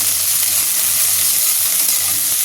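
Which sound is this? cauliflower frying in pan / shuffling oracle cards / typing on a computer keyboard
cauliflower frying in pan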